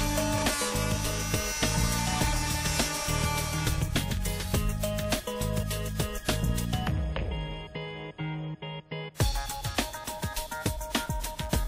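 A FEIN MultiMaster Marine oscillating tool with an M-Cut saw blade cuts material: a loud, buzzing, rasping drone broken into repeated cutting bursts, with a brief drop-off before it starts again.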